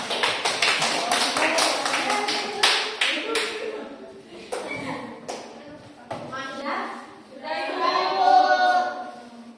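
A classroom of students claps hands during an economics micro-teaching lesson, giving a burst of dense, close applause that thins into scattered claps, followed by children's voices.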